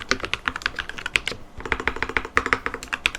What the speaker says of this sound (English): I treated myself to a new computer keyboard